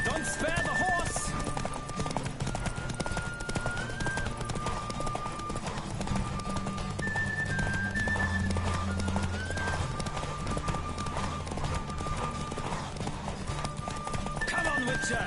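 Rhythmic hoof clip-clop of a galloping horse in The Witcher 3: Wild Hunt video game, over a steady bed of music and ambience, with a brief whinny, all fairly loud and continuous.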